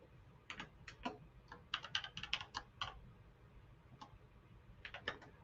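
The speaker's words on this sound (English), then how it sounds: "I'm still getting used to coding on this particular keyboard." Keystrokes on a computer keyboard during coding, coming in quick irregular bursts of clicks with short pauses, close and fairly quiet, with no talking.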